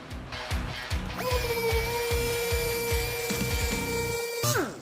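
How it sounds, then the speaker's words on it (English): Power sander buffing automotive clear coat with a soaking-wet Trizact pad, a steady whining tone that starts after a second and runs continuously, then winds down near the end, over a busy, rattling background. "So I'm sanding all the way out to the corner and the edge now."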